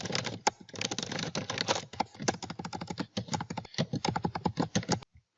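Fingers type on a computer keyboard in fast, uneven bursts of close, crisp key clicks, pausing briefly between runs before stopping near the end.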